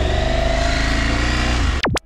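A KTM 890 Adventure motorcycle engine idling close by with a steady low rumble, ending with a quick rising and falling whine.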